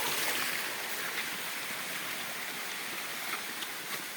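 A stream flows on a mountain nature trail, a steady broadband rush and babble of water, close and continuous with no voices over it.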